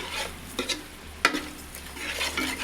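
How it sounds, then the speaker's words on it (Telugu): A ladle stirs chili powder into a simmering tamarind curry in a pot, giving soft scraping strokes and a few sharper metallic knocks over a faint sizzle, with no voices. "మొత్తం కలిసేలా ఒకసారి గరిటతో మొత్తాన్ని బాగా కలపండి"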